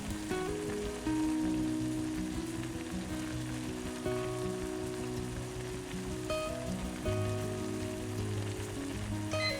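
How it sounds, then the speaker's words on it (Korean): Ramen noodles with beef bulgogi simmer over medium heat in a pot, giving a steady, close bubbling and sizzling hiss with scattered small pops throughout. "물이 끓으면 라면과 건더기, 양념 소스를 넣고 5분간 중불에 끓여줍니다"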